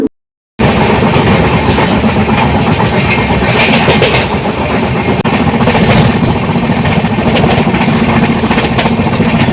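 The Falaknuma Express passenger train from Hyderabad to Kolkata runs on its rails, heard loud and close from the open carriage door as a continuous roar of wheels with rattling clatter, after a moment of silence at the start.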